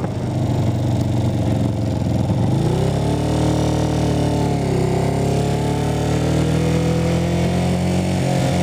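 A motorcycle engine runs loud and continuous on a ride back from a dirt lake, its pitch dipping and climbing again around the middle as the rider shifts speed, with wind rush underneath.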